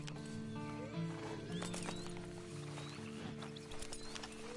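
A horse in the Red Dead Redemption Online video game clip-clops and whinnies against a soft ambient background, with steady hoofbeats and a brief neigh, moderately quiet throughout.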